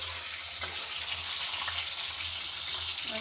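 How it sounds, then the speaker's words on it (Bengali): Fish head marinated in salt and turmeric frying in hot oil, a steady broadband sizzle and hiss that holds level throughout with a low hum underneath and no talking. "আমি নুন হলুদ দিয়ে মেখে রাখা মাছের মাথা ভেজে নেব।"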